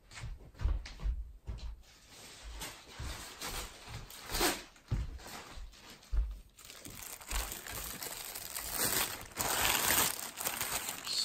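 Plastic bag wrapped over a mailing envelope crinkles and rustles in close, irregular bursts, with soft crunches and handling noises and a denser stretch of continuous rustling toward the end.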